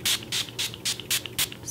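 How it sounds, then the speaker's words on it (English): Urban Decay All Nighter makeup setting spray hisses out in six quick, evenly spaced bursts from a pump bottle, close and crisp with short pauses between sprays. "I'm going to use this Urban Decay All Nighter Makeup Setting Spray"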